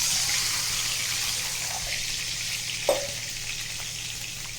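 Water poured into hot oil seasoned with asafoetida sets off a loud, steady sizzle that fills the whole stretch, with a brief splash partway through.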